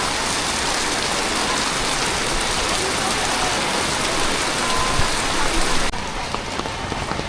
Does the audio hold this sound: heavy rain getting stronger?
yes